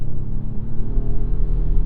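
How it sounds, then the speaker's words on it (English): A 2024 Volvo V60 Polestar Engineered wagon's engine starts up and runs with a steady, close low rumble and a faint revving edge, heard alone with no talking. "So instantly you can hear the engine kick on."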